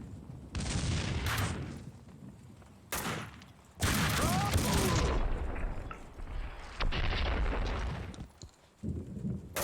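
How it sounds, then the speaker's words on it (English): Gunfire bursts and a grenade blast in the shooter video game Max Payne 2, coming in loud, abrupt volleys separated by short gaps, with a heavy explosion roughly midway and brief voices mixed in. "Fire in the hole! Grenade!"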